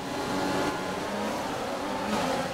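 F1 race cars in the F1 2020 game leaving the grid at a race start, a dense, steady roar of several engines revving hard with wheelspin, loud and continuous with no talk.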